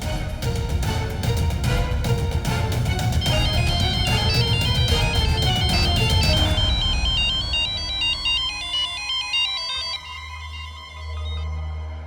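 A mobile phone ringtone plays a loud repeating electronic melody that fills the clip, then thins to a sparser tune and fades near the end, with a low hum at the close.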